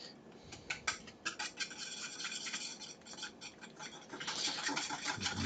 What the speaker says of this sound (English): Stir around our milk mixture there. We're going to use the same whisk.